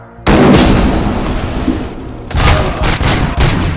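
Heavy volleys of gunfire from the Robocop: Rogue City video game boom in loud sustained bursts, briefly dropping off before another barrage resumes; no talking over it.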